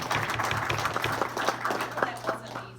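Attendees at a city council regular meeting clap for a colleague, a short burst of scattered, moderately loud handclaps over a steady low hum, with a voice speaking through it.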